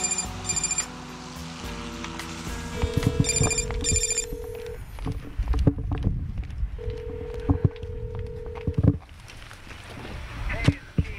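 A telephone rings unanswered in repeated bursts with pauses between them, fairly close, while low rumbling movement and some voices sit underneath.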